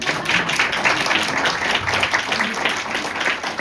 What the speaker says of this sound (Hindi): आइए हम बच्चों के लिए एक जोरदार ताली बजाएंगे।